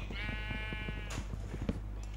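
Sheep in Minecraft give a single drawn-out bleat, loud and close, followed by short game clicks and soft thuds with no talking.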